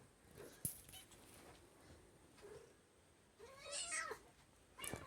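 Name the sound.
cat meowing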